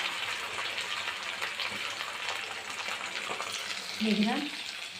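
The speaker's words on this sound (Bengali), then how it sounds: "এবারে আমি এটাকে একটু ভালো করে ভেজে নিই" Onions frying in a pan with cumin, garlic and ginger for cabbage, with a steady low sizzle and occasional soft stirring scrapes, then a short brighter tonal scrape near the end.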